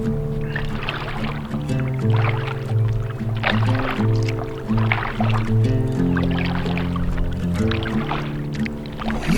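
Kayak paddling on a Scottish loch, rhythmic paddle strokes and water splashes repeating about every second, close, with tonal sounds running underneath.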